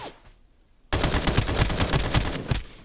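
In Escape From Duckov, a gun opens up after a quiet moment with a loud, sustained burst of rapid automatic fire, shots crackling close and evenly until it stops near the end.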